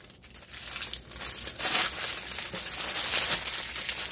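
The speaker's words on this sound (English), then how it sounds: "Way too much tin foil." Tin foil crinkling and crumpling up close as food is wrapped in it, a continuous loud rustle that swells and settles, with no voices.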